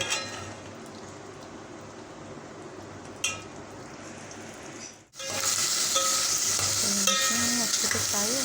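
Chicken frying in a pan, a steady fine sizzle with a sharp clatter partway through, then a brief pause and a louder, brighter spitting sizzle, close and without talk.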